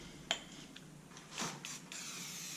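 Faint, short hissing bursts of WD-40 aerosol spray while sanding and fixing up a junkyard LS truck engine, with small clicks between the quiet sprays.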